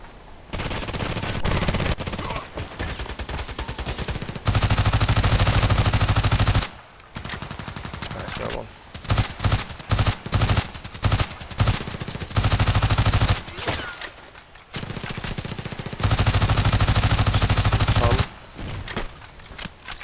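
Sustained bursts of automatic gunfire from the online shooter Contract Wars, loud and close, coming in several long volleys with short pauses and scattered single shots between them.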